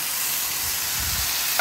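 Teriyaki steak on a hot griddle gives off a loud, steady, close sizzle, with no voices.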